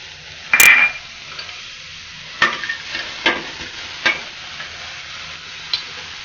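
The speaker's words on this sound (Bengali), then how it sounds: "তারপর পেঁয়াজ কুচিগুলা এবং শুকনা মরিচ তাওয়ার মধ্যে ফেলে দিলাম।" Chopped onion and dried chilli dropped onto a hot tawa for an aubergine bharta: a sharp clatter at the start, then scattered scrapes and taps of stirring over a low sizzle, no talking.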